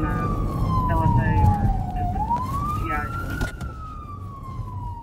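A police siren wails in slow rising and falling sweeps, steady and moderately loud, with a brief voice under it.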